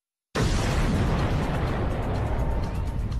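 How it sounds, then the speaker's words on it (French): Explosion sound effect for the Big Bang fireball, an abrupt onset after silence swelling into a loud, sustained roaring blast that rumbles on without fading. "C'est l'explosion de ce point, plusieurs millions de fois plus petit qu'une tête d'épingle, qui va engendrer l'univers."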